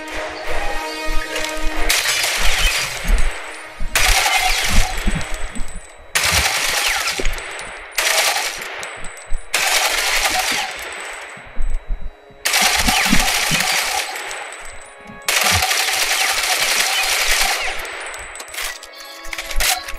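Bursts of automatic fire from the MK gun in the online shooter Ghost Recon Online come in repeated sharp volleys of a few seconds each, separated by short pauses, loud and metallic with clanging echoes.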